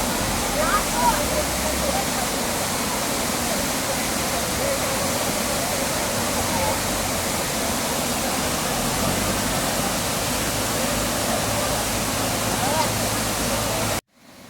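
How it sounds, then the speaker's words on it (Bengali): A 100-metre waterfall tumbling from the mountains over stones on the old Silk Route, a steady loud roaring rush that stays constant throughout before cutting off abruptly at the end. "পাহাড় থেকে নেমে এসেছে ঝর্ণা।"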